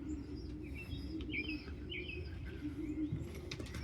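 Pigeons in a stock loft coo and chirp over a steady low rumble, with scattered calls and faint wing flutters at moderate distance.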